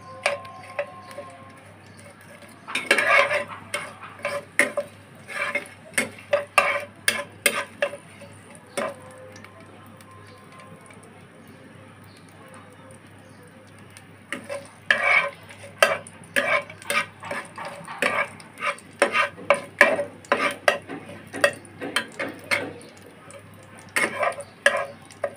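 Dried red chillies fry in a pan for sour mango dal, with scattered crackling pops and clustered stirring clicks coming in two busy stretches around a quieter middle, close and moderately loud.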